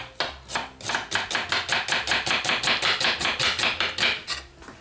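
A knife thinly slices an onion on a cutting board, producing a fast, even series of crisp chops, about four or five per second, close and loud with no voices.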